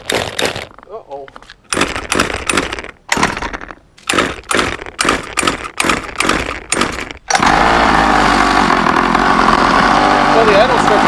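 A scooter engine runs with a rough, unstable idle. It starts as a choppy series of bursting revs broken by gaps, then settles into a continuous loud, uneven drone. Someone talks over parts of it.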